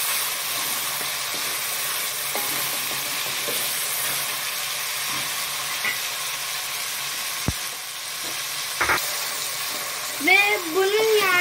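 Onions fry in a pan for an aloo baingan (potato and eggplant) dish as peppers and tomatoes are stirred in, giving a steady, close, hissing sizzle with a few soft clinks and a brief voice near the end.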